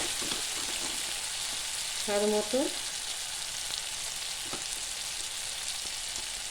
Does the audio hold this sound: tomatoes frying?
yes